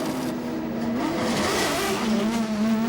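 Formula Renault 3.5 race cars from a 2005 race at Le Mans roll through the pit lane, a steady engine drone holding throughout with rising revs in the middle and a faint tire squeal, loud and continuous with no voices.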